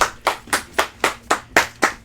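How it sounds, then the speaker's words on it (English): An audience applauds a dog guest named Pongo as he comes on, with steady rhythmic clapping of about eight even claps over two seconds, close and clear with no talking. "Round of applause."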